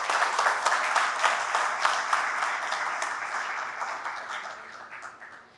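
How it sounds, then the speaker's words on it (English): Audience applause for participants at a startup pitch competition, a dense wash of many hands clapping that holds steady and then slowly fades toward the end, with no voices over it. "everybody give the participants one last round of applause."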